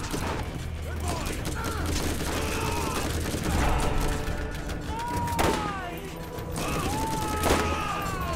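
Gunfire in co-op Borderlands rattles in repeated bursts and rapid volleys among mechanical clanks and game effects, loud and close, with players talking over it.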